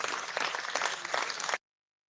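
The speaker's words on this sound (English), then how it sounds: "Or a real, actual round of applause" A short round of applause from a live video podcast audience, a dense even patter of clapping at moderate level that cuts off abruptly after about a second and a half.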